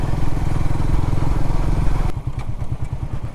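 A motorcycle rides along a village road, its engine a steady close rumble with rapid pulsing firing beats, while wind noise drops away partway through.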